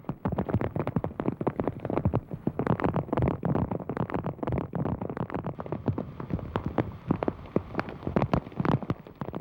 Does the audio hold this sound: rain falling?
yes